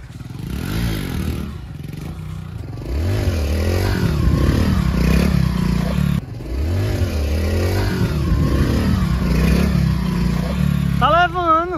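A Honda Pop 110i motorcycle accelerates while being ridden in a wheelie, its small engine revving and rising in pitch with clattering and scraping, while a person talks over it.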